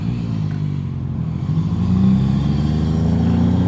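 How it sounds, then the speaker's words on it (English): A Duramax diesel truck engine gives a steady, close, low rumble that swells slightly louder near the end. "Duramaxes do sound really good. I'd say they're probably one of the best sounding diesels"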